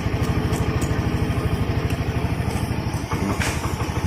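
A Honda Beat scooter engine idles steadily with its battery ground cable disconnected, a close, even putter with a fast regular pulse and light mechanical clatter, running alone without speech.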